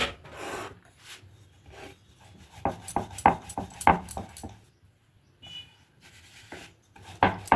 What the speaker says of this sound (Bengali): এবার দিয়ে রুটির মতো করে বেলে নেবো